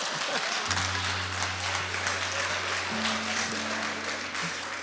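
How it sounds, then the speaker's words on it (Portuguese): Church audience applauding together, a dense steady clatter of many hands clapping across the whole stretch, with a sustained tone beneath and no talking. "Uma salva de palmas para Jesus."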